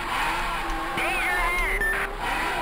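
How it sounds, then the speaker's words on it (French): A racing car engine in the video game Miglia 2: Great 1000 Miles Rally whines and shifts pitch steadily with sharp rising and falling revs, fairly loud and continuous, with talk over it. "les sons du moteur sont impeccables"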